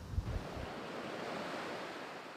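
Ocean surf on a Galveston County beach along Bolivar Peninsula, Texas: a continuous broad wash of breaking waves with wind buffeting the microphone, a brief low thump at the start, steady and fairly loud, no voices.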